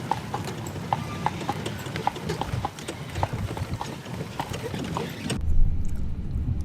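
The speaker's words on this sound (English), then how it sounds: "So in actual Central Park on an actual horse and carriage ride, enjoying it." Hooves of a carriage horse in New York's Central Park clip-clop in a steady, even rhythm on the pavement, close and clear over a constant background rumble, with no talk.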